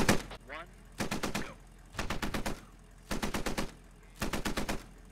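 A Humvee-mounted machine gun in Squad fires in four short, rhythmic bursts of rapid shots, separated by pauses, with a brief voice heard at the start.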